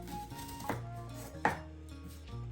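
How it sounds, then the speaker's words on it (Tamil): A brown onion being sliced on a board, giving two distinct knife chops against steady background music with faint kitchen clatter. "நான் ஸ்லைஸாக கட் பண்ணி எடுக்கிறேன்"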